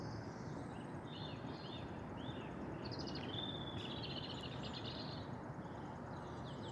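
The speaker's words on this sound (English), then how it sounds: "Birds are singing." Birds chirping and singing in the evening outdoors, thin high calls repeating over a steady broadband rush of wind or background noise, fairly faint.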